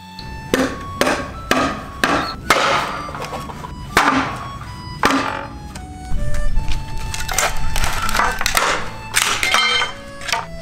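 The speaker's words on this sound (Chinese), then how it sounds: "我已经把所有的竹子给劈完了" Bamboo poles split by hand for a garden fence: a run of sharp, woody cracks and thwacks in an irregular rhythm, close and fairly loud, with brief rustling between strikes.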